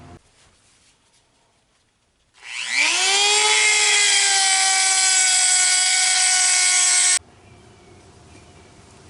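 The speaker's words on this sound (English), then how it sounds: "Now that I've dremeled off the necessary material to fit this on here" Dremel rotary tool grinding half-moon notches into a metal winch mount plate: the motor spins up with a rising whine, holds a loud steady high-pitched grind for about five seconds, then cuts off abruptly into quiet.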